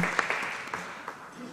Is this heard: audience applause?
yes